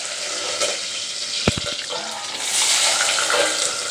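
Curry leaves tossed into hot oil in a pan with chana dal and urad dal while cooking a mixed vegetable curry, giving a close, steady sizzle and crackle with a brief burst of spattering pops.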